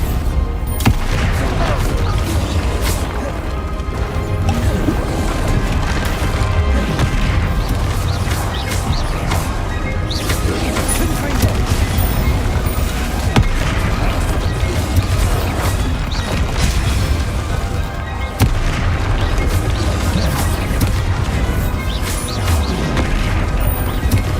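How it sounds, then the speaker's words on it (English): Confringo and Bombarda spell blasts go off during combat in Hogwarts Legacy, repeated loud booms and crashes over a dense, busy game soundscape, with a player's voice shouting now and then. "Confringo! Bombarda!"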